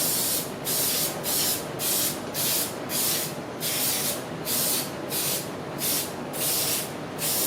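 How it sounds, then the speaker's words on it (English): Cooking oil sprayed onto a baking tin in a home kitchen while making biscuits and muffins: a series of about ten short hissing bursts in a steady rhythm, close and fairly loud, with no talking. "let's start with giving it a bit of a spray"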